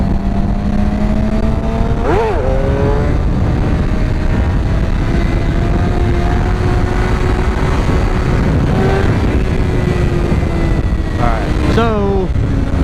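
A Suzuki GSXR 750 sport motorcycle engine drones steadily in the wind, with a few sharp throttle rises and gear changes as it is lifted into a wheelie and held, loud and continuous with wind noise.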